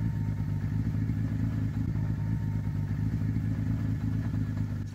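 An early-1980s Kawasaki Z1300 motorcycle engine runs with a steady, close mechanical rumble and faint clatter, even in level throughout.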